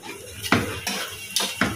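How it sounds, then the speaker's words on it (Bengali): Food being stirred in a cooking pan with green chillies, black pepper and a spice mix, giving several sharp utensil scrapes and clanks against the pan at a slow, irregular pace, close and fairly loud with no talk. "একটু নাড়াচাড়া করব ভালো করে।"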